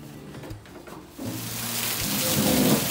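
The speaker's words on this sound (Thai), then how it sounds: "ฝนตกกันแล้วทุกคนตกหนักด้วยนะ" Rain builds from a light patter into a heavy, steady downpour, with a few soft thumps early on.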